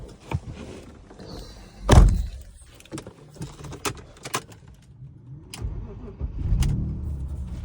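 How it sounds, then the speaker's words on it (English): A 1999 BMW 528i Touring with manual transmission starts with a loud crank-and-catch burst, then idles in a low rumble with scattered clicks and clunks nearby before the engine swells again toward the end. "Let's turn the car on."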